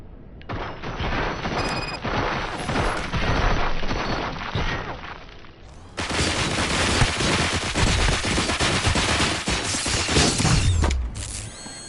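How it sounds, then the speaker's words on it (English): Police officers open fire in RoboCop with a dense, sustained barrage of loud automatic gunfire and mechanical clatter, pausing briefly in the middle before resuming just as heavily. "Fire at will."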